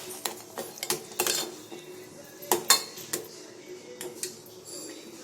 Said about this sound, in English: You have to add 1/4 cup of sugar. And stir it.